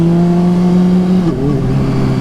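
Honda CBR 600RR supersport motorcycle on a test ride, engine holding a loud steady high-pitched drone before the revs drop and shift about a second in, close and dominant.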